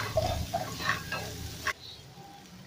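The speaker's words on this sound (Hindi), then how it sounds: "अब मैं इसमें डाल दूंगी मेरे चॉप्ड अनियन और इसे मिक्स कर दूंगी" Chopped onions fry and are stirred in a hot pan, a close, bright sizzle with scraping strokes that drops to a quieter hiss partway through.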